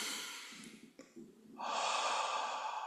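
Deep breathing in during a guided emotional release practice, a long exhale, a brief pause, then a strong close-up inhale held steadily, with no talking.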